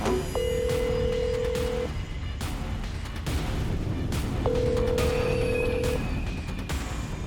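A phone line rings out while a call is being placed: two long, steady electronic ring tones separated by a pause, with a faint background hum and no one speaking yet.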